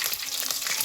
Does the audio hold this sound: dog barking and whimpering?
no